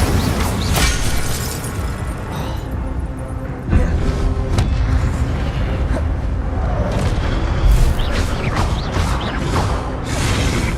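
Fire spells, Incendio among them, are cast in the video game Hogwarts Legacy amid a dense, loud wash of whooshing blasts, rumbling booms and crackling impacts that continue without a break.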